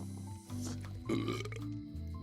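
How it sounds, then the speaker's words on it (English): A character in the video game Return to Monkey Island lets out a single loud, drawn-out burp lasting about two seconds, close and alone. "Burp it."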